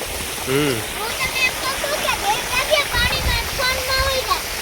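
Loud water rushes and splashes continuously nearby on a farm while several people talk over the steady roar.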